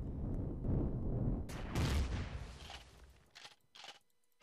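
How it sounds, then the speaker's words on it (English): Gunfire from enemies in the Empyrion survival video game, a dense rumbling burst of shots that thins out into a few sharp, separate cracks near the end, loud and close with no talking over it. "So they're constantly shooting at me"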